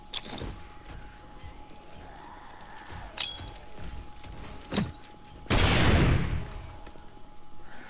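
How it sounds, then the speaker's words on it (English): Automated turret firing on zombies in 7 Days to Die with the Darkness Falls mod: a few sharp, scattered shots, then a loud, longer burst of fire near the end. "we let the turret punch these zombies out as best we can"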